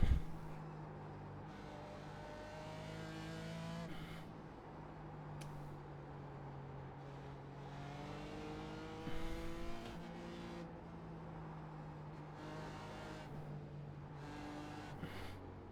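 A BMW race car in a racing video game drones steadily as its engine revs rise and fall through gear changes, with harmonic sweeps climbing and dropping continuously and brief tire or curb noises over a constant, close engine tone.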